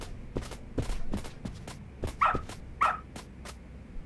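A dog barks in the video game Lost Judgment, giving a string of sharp, fairly close barks in an uneven rhythm, with a couple of higher yelps in the middle and no talking over it.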